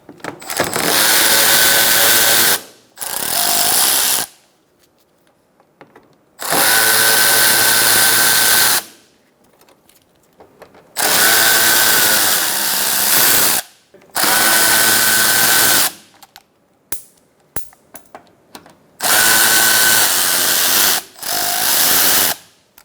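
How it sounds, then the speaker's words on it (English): A power drill with a T30 Torx bit socket backs screws out of a 2012-2018 Ford Focus front bumper. It gives loud, close whirring bursts of a few seconds each, repeated about seven times with quiet gaps between. "Using a T30 Torx bit socket, remove your Torx bit screws."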